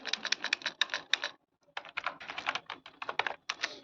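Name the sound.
typing the word kilogram on a computer keyboard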